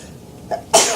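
A single sharp sneeze in a quiet classroom, preceded by a short intake of breath, loud and close.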